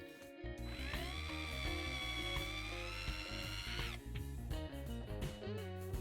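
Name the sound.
drilling out a metal rivet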